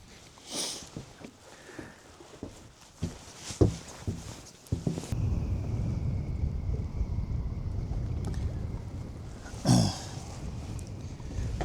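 Steady wind buffets the microphone on a fishing boat near an island, a continuous rushing roar after a few knocks and thumps from the boat. No one speaks.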